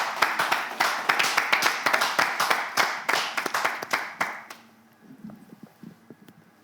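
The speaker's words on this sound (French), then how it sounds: "Applaudissez notre candidat." An audience applauds a candidate on a television show, sharp close claps in a dense rhythmic burst that stops abruptly, leaving scattered faint claps and room noise.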